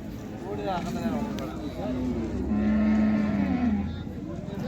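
Khillar cattle moo at a busy cattle market in Sangola, with a few drawn-out, fairly close lowing calls rising and falling amid a steady murmur of crowd talk.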